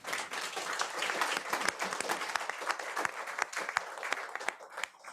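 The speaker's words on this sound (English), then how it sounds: "I think they need a big round of applause." A conference audience at a high-level session on democratic elections in Europe breaks into steady applause, with dense clapping that holds for several seconds before it thins at the end.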